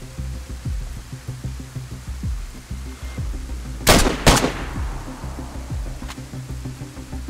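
Gunfire in the video game DayZ: two sharp, loud shots crack in quick succession midway, with a fainter pop later, over a background of footsteps and game ambience.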